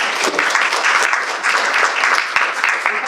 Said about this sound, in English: If I could ask you to hold your applause